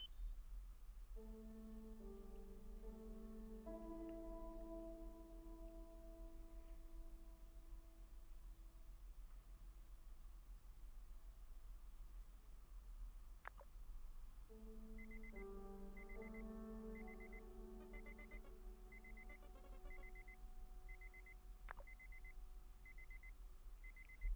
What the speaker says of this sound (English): It said, don't wake Grandma Ford, so I hit the alarm, that's what turned it off.